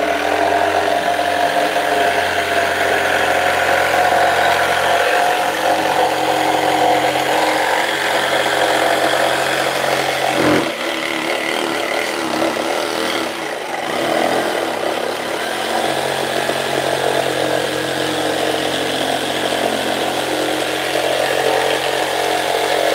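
Oscillating-blade power saw cutting out the tail and wing shapes of a carved gargoyle letterbox: a loud, continuous buzzing cut with a brief dip in load around the middle, with no talking.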